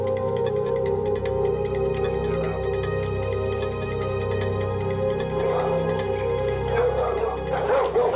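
Several dogs bark and yip continuously while guarding a property in Belize, a close, busy chorus of overlapping barks with a few whimpers over a steady background hum, growing louder toward the end.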